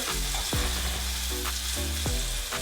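Lamb chops sizzle and spit in marinade in a hot pan, with a few scraping stirs cutting through the steady close frying hiss.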